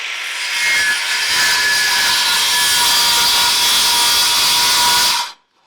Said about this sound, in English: So I can still start it with my skill saw.